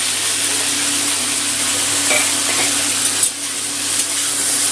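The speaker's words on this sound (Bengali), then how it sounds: "ঢেঁড়সটা একটু ভেজে নেব।" Okra with a medium chopped onion frying in a pan, giving a steady, fairly loud sizzle that runs throughout with a few faint stirring scrapes and no voices.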